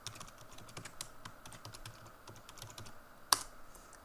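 Fingers type a password on a computer keyboard, a quiet, close run of soft, fairly regular key clicks that ends with one sharper, louder keystroke near the end.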